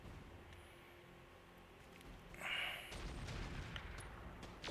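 An Ultra AC 20 autocannon fires in the BattleTech RogueTech mech game: a heavy booming burst midway, with the rumble lingering after a quieter stretch of background.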